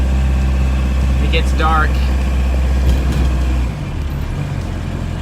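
An MK1 VW Rabbit Diesel driving around a neighborhood, its engine droning steadily and loudly from inside the car. Someone talks briefly over it, and the engine note drops near the end.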